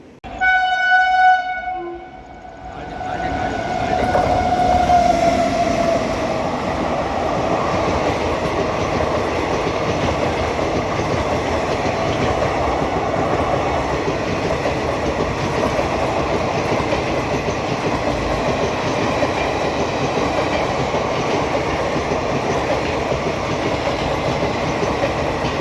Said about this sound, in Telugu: ఇప్పుడు వెళ్ళింది Hyderabad Chennai super fast express